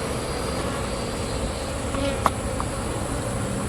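Italian honey bees buzz in a dense, steady swarm hum during a hive inspection, close and continuous, with one faint click midway.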